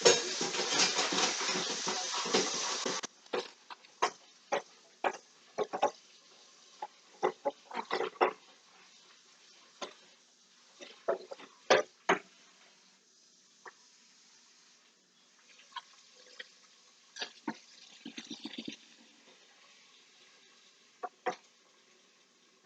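Running water from a kitchen tap rinses out a chocolate cake bowl in the sink, a steady rush for a few seconds followed by scattered clinks, splashes and drips, fairly close with no talk.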